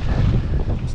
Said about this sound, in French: une petite rafale de vent à 50 km/h là